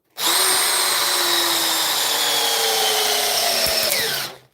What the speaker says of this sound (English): She's in drill mode, so.